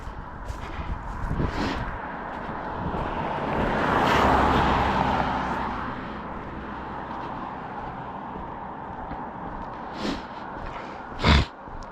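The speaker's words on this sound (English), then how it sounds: "Got a car going by." A car passes on a road, a broad swell of tire and engine noise rising and fading near the middle, heard outdoors by someone on foot, with a few sharp sniffs and nose noises close by.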